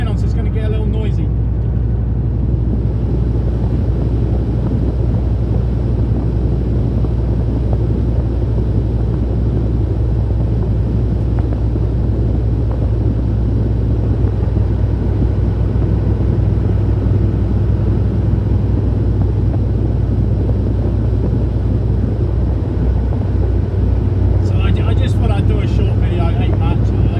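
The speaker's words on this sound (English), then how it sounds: "I'm going to turn that fan on so it's going to get a little noisy." A loud, constant whooshing drone of a fan blowing inside a vehicle, steady and unbroken for the whole stretch.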